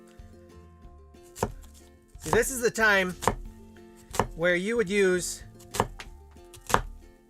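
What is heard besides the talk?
knife chopping onions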